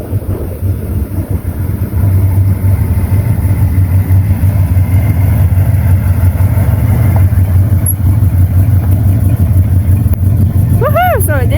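A 1989 Chevy Suburban, parked for years, runs with a steady close engine rumble that grows louder after a couple of seconds, slightly uneven, with a voice near the end.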